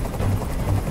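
Helicopter rotor thumping in the video game Detroit: Become Human, a low, even chop over a brief moment with no talk.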